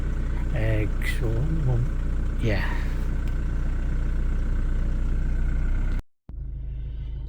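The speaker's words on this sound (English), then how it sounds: "So the Jag has been running now for about 10 minutes" A Jaguar X-Type engine idles with a steady, low rumble throughout. A voice speaks briefly near the start, and the sound cuts out sharply for a moment near the end.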